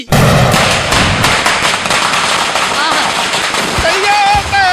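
Firecrackers burst for Diwali during a comedy stage show, a loud, dense, rapid crackling string of sharp pops with a few whistling tones rising near the end.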